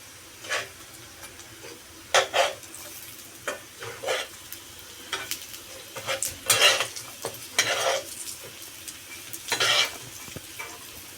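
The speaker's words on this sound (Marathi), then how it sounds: "आपण आता ते पलटी मारणार आहोत अशा प्रकारे क्रिस्पी होतात छान" Suran yam cutlets coated in semolina fry in oil in a pan and get flipped. A spatula repeatedly scrapes and taps over a quiet, steady sizzle in scattered bursts, without speech.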